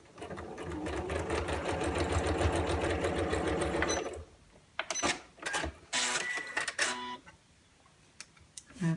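A sewing machine stitches patchwork fabric and wadding for a coin purse: a close, loud, rapid run of stitching for about four seconds, followed by several short, stop-start bursts.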